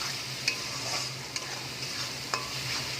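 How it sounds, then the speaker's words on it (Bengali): Masala with chili powder, salt and sugar fries in oil with a continuous near sizzle, and a utensil scrapes and taps against the pan a few times as it is stirred. "এই মশলাটাকে একটু ভালো করে কষিয়ে নেব"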